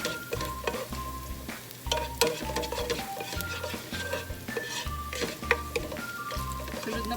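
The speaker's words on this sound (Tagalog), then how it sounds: "Mainit na po siya, kaya ilalagay natin yung ating bawang. Hayaan muna natin siya maluto." Chopped garlic frying in hot oil in a pan, a soft, steady crackle heard close up beneath rhythmic background music, with occasional clinks of stirring.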